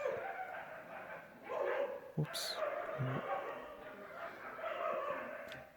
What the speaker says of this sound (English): There is a war between dogs outside.